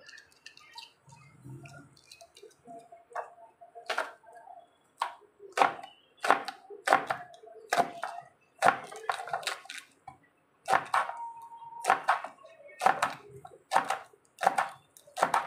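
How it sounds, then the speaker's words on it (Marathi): A knife chops shevli, a wild vegetable, for a curry with a rapid run of sharp, close taps on a board, irregular at first and then steady, with quiet gaps between. "हे आता मी असं चिरून घेते"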